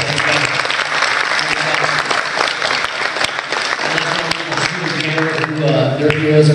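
A panel discussion audience applauds in a steady, dense wash of clapping that holds for several seconds, with a faint low hum and murmur running underneath.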